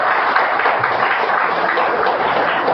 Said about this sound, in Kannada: ಒಂದು ಚಪ್ಪಾಳೆ ಇರಲಿ ಅವನಿಗೆ.